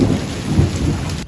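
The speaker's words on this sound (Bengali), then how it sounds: "বৃষ্টি দেখুন কি পরিমাণে বৃষ্টি পড়ছে" Heavy rain pours down loud and close while thunder rumbles deep underneath, in a brief burst with no talking.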